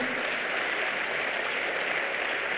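Summit audience applauding: a dense, even wash of clapping from a crowd, steady and sustained throughout, heard from a moderate distance.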